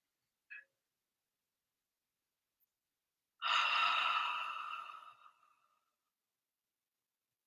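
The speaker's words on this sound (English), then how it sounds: "through the nose, exhale. And the exhale should be 2 or 3 times as long as the inhale." A single slow breath: a short faint inhale through the nose, a pause, then a long, soft, airy exhale that trails off into silence.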